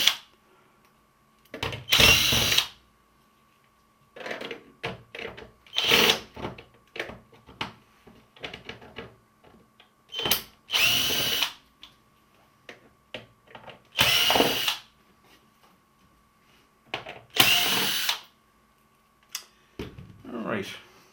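A power screwdriver loosens the screws of a Beko 19LL250M TV's back cover in repeated short whirring bursts, each a second or so long with pauses between. Quiet handling clicks and intermittent talk fill the gaps.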